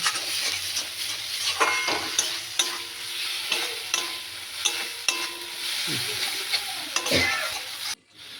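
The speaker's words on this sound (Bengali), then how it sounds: "মশলাকে ভালো করে কষতে হবে" Spice paste for a Bengali small bata fish curry fries in a pan. It sizzles steadily and close, with regular scraping and clinking of a spoon against the pan as it is stirred.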